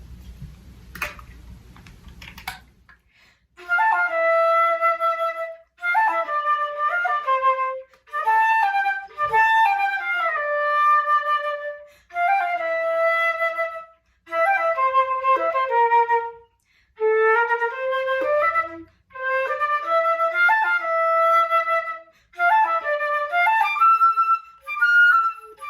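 A complete flute plays a lively melodic phrase of short runs and held notes, clear and close, in several bursts separated by brief pauses, with no talk.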